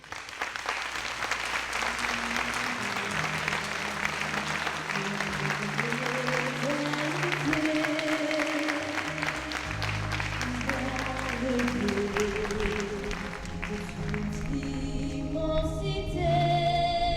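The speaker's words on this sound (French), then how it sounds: "Alors, je vous demande d'applaudir Chantal Lefter qui nous manque" An audience applauds in tribute at a tap dance show, sustained clapping from a crowd heard over warm background music that rises and shifts.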